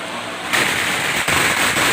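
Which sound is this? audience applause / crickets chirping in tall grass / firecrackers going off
firecrackers going off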